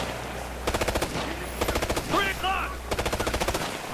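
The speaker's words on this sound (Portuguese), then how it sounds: "Eu tô atirando, não tô acertando." Gunfire from Tom Clancy's Ghost Recon Future Soldier comes in three rapid automatic bursts, each with sharp repeated shots. A short whistling or chirping sound falls between the second and third bursts, and a low rumble runs beneath.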